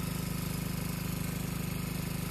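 A steady mechanical engine drone with a regular throb sits close and loud, giving off warm exhaust vapour during a Mumbai-to-Shirdi palanquin foot pilgrimage, running alone without talk.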